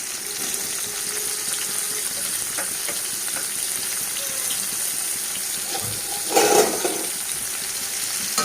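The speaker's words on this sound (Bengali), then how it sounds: "তেলটা গরম হয়ে গেছে, আমি করলাটা কড়ার উপরে দিয়ে দিলাম।" Bitter gourd fries in hot oil in a wok, a steady close hiss of sizzling with a brief louder burst of spattering near the end, no talking.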